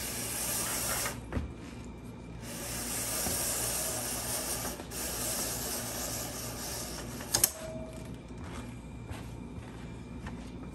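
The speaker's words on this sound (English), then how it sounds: "run it through my edger here" A leather strap for split reins is drawn through an edger to cut a beveled edge, giving a continuous close scraping hiss broken by a few brief pauses between strokes.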